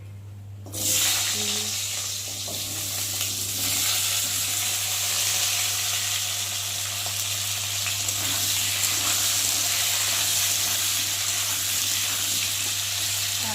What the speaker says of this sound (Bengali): এখন আমি তেলের উপরে আলুগুলো দিয়ে ভালো করে ভেজে নেব